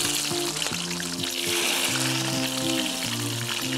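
Sliced onions fry in hot oil in a pan with bay leaf, cinnamon, cloves, cardamom and star anise, a steady close sizzle that holds even throughout without pauses.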